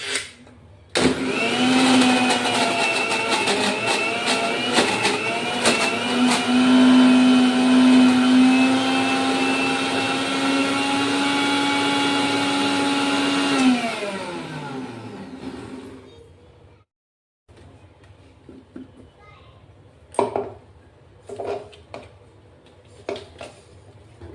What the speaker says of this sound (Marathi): फक्त मिक्सरला 2 मिनिटं फिरवणार आहेत आपण।